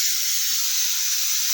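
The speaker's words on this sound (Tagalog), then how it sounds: "Singaw-singaw na. Parang amoy ulam na." Steady broadband hiss of steam rising from chicken cooking with lemongrass, continuous and fairly loud with no talk over it.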